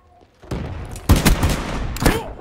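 Gunfire in the video game Black Ops 3 comes as sharp bursts of shots, a quiet opening and then several loud close volleys in quick succession.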